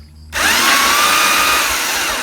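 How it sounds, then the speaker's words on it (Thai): A power drill fitted with a small bit bores a pilot hole, starting abruptly and holding a steady, loud, close whine to the end, with no voices. "เราต้องเจาะน้ำร่องด้วยสว่านดอกเล็กก่อนนะครับ"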